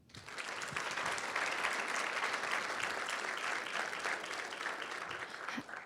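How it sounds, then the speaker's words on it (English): An indoor audience at an alumni awards event applauds the 2017 honorees with a sustained, even burst of clapping from many hands that swells in and holds steady for several seconds. "just a round of applause for them again, the 2017 honorees"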